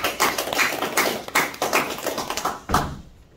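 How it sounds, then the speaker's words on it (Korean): An audience of elders at a Korean lecture hall gives a short round of welcoming applause, a loose sequence of sharp claps and taps that trails off into silence. "환영하는 뜻 박수 한번 쳐주십시오"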